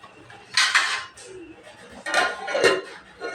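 Metal clatter as a lid is set on a pot of simmering mackerel fish curry, with a couple of distinct clanks and scrapes close by and no talking.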